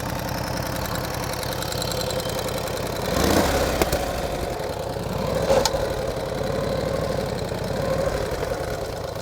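A 1949 Harley-Davidson Panhead motorcycle with a sidecar runs close by, its big engine thumping in an uneven loping idle as it creeps downhill, with a couple of sharp mechanical clicks partway through.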